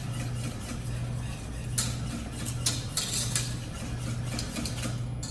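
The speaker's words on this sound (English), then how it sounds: "Make sure you stir around in the corners, all over the bottom." A utensil scrapes and clinks against a pot while thickening pastry cream is stirred, the irregular taps rising over a steady low background hum, no voices.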